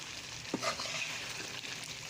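Spice masala with ground coriander, bay leaf and garam masala frying in oil for chicken biryani, a soft, faint sizzle with light stirring scrapes and one brief clink, no voices.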